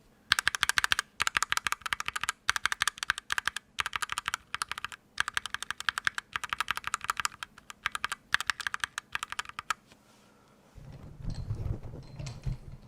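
Rapid clacky keystrokes from a mechanical keyboard with linear switches in steady bursts with short pauses, close and crisp, ending in a few seconds of low rumbling noise.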